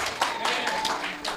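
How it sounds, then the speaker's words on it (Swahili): A congregation claps hands together for Jesus during a church sermon, a short burst of overlapping claps with voices mixed in. "Piga Yesu makofi kwa kuzaa."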